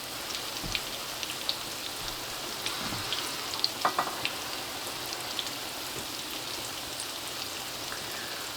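Beer-batter onion fritters fry in hot oil, a faint steady crackle and sizzle with scattered small pops and spits throughout and no voices.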